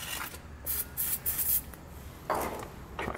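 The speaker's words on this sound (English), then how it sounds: "That spray lubricant usually does a pretty good job of assisting you." Spray lubricant hisses in several short bursts from a can during a Draw-Tite trailer hitch installation on a 2015 Honda Civic, the bursts separated by pauses and sounding close and fairly loud.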